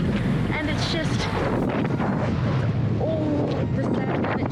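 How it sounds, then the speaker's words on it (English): Strong wind at the pink lakes of South Australia roars and buffets the microphone continuously, loud and rough throughout. "You look how windy it is, like it's horrible."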